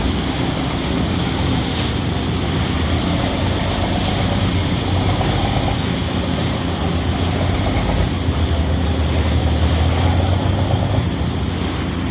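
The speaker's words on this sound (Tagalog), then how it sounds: "Alon o." Sea waves around a small fishing boat, a constant rushing surf and wind noise buffeting the microphone, loud and unbroken with no talk.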